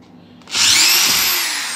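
An iBELL IBL SD10-85/86 cordless electric screwdriver backs a screw out of plywood board, a steady close motor whir starting abruptly after a faint click and running continuously, easing slightly in pitch toward the end.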